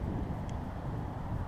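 Steady wind blowing outdoors on a cold, breezy day, a continuous low rumble buffeting the microphone throughout with no voices.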